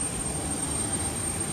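A Kenya Airways airliner's engines roar steadily on the tarmac of a small airport, a constant close drone with a high whine running through it and no talking.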